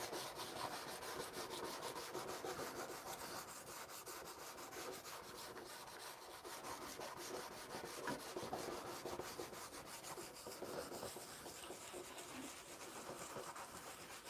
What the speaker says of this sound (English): This is basically all we do is sand.